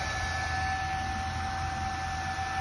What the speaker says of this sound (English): So if I turn it on, fan starts spinning.